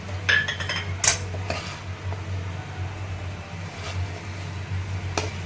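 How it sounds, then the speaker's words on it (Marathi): A coconut barfi mixture with milk powder and ghee being stirred in a pan, with a spoon clinking and scraping against the metal over a low steady hum. "मिल्क पावडर पण छान मिक्स करून घ्यायची"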